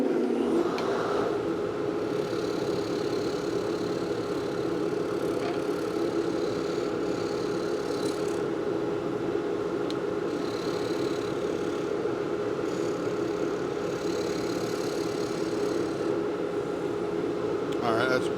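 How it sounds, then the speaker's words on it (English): A blower runs steadily in a pen refurbishing workshop, giving an even mid-pitched whir that holds at a constant level for the whole stretch with faint background sounds and no voice. "Let me turn the blower on."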